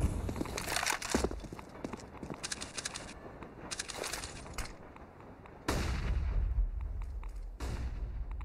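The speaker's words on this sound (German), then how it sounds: "Granaten kommen rein." Grenades burst and gunfire crackles on the Train map of a Counter-Strike match: scattered sharp shots and thuds, then a heavy, booming explosion rumbles loudly near the end.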